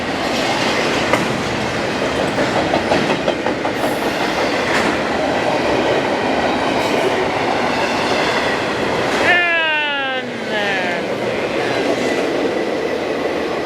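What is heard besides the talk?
freight train passing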